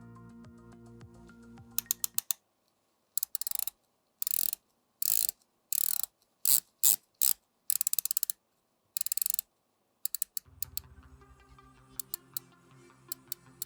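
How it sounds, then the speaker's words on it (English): Longines Hydroconquest GMT with a 120-click unidirectional blue ceramic bezel being turned: crisp, close bursts of rapid ratcheting clicks in short spurts separated by silent gaps, with quieter handling ticks at the start and end. "It's 120 click, unidirectional, and it's got a deep blue sloping ceramic bezel insert."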